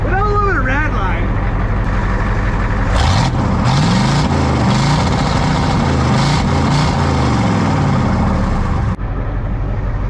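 Ford 7.3 IDI diesel engine in a flatbed truck with the exhaust deleted, loud and close, revving up toward redline with a deep rising roar and a rough, clattering rumble, then cutting off abruptly.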